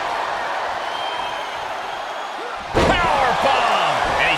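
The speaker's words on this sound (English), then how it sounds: "thrown from the cage down to the mat. Oh, that was a devastating fall." A wrestler in WWE 2K23 thrown from the top of a cage onto the mat lands with one sudden heavy slam, cutting through a steady crowd roar with a ringing impact and reverberation.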